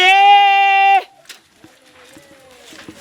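A loud goat bleat, one long sustained cry of about a second, opens the clip, followed by faint background noise and soft scattered sounds.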